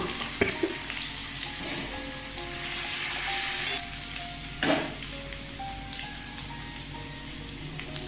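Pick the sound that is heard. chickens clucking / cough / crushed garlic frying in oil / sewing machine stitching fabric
crushed garlic frying in oil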